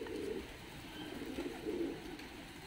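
Pigeon cooing from a mixed-breed Georgian tumbler (fighting) pigeon in Tbilisi, a soft low repeated coo in a few rounded phrases, fairly close and quiet against faint background noise, with no talking.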